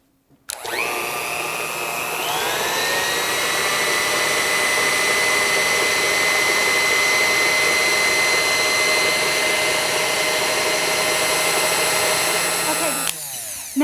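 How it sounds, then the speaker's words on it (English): Electric mixer beating gingerbread dough with nutmeg and cinnamon, a loud steady motor whine that starts abruptly, rises in pitch after a couple of seconds, holds evenly for about ten seconds, then stops. "So we're going to add those right into our mix here. Okay, and turn our mixer on."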